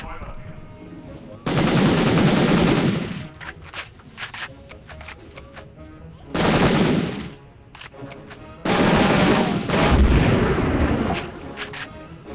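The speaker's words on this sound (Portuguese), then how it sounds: "Que arma barulhenta, meu chapéuzinho." Noisy gunfire in the PS1 game Medal of Honor, three loud sustained bursts of rapid shots separated by quieter gaps, close and booming.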